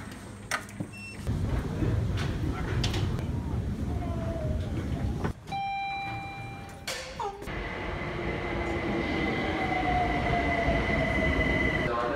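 A train at a London station rumbles steadily, with a sharp metallic wheel squeal and brief high-pitched tones. Passing clatter fills the space, and faint voices are heard in the background.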